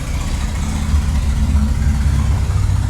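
A loud, low car engine rumbles close by outside, a steady throaty roar with no voices.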